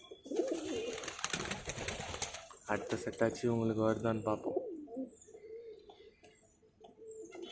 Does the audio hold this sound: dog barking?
no